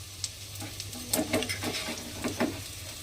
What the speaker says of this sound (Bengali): এবার রসুনটাকে একটু ভাজা ভাজা মতো করে নেব